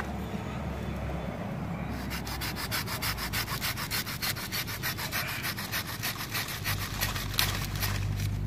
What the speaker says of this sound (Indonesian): Kita gergaji pakai gergaji mini.